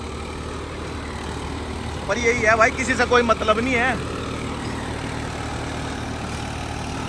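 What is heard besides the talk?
tractor engine running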